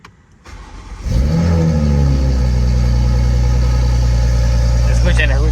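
A Toyota Supra MK5 turbo engine with an aftermarket CTS intake starts and settles into a loud, steady high idle, close to the recorder, with a brief rise in revs near the end.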